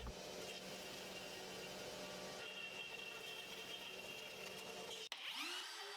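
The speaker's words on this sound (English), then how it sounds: "Here I'm running a 1/4 inch down cut end mill, and I take 3 passes to cut through the plywood" A CNC router running a quarter-inch down-cut end mill through plywood in three passes at 5 inches per second, a steady broadband whirring drone with a constant tone throughout, cutting off abruptly near the end.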